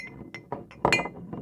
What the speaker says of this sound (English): they heard soft giggles and the clink of tiny dishes